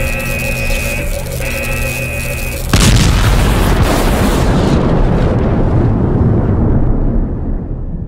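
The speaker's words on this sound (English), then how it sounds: "This thing is going to explode." An overcharging energy core in a horror adventure game explodes, a loud broadband boom hitting suddenly after a steady tonal hum and rumbling on as a long, decaying roar.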